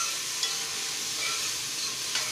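Onion and green seasoning sauté in a hot pan, giving a steady soft sizzle with faint stirring scrapes, close and alone without voices.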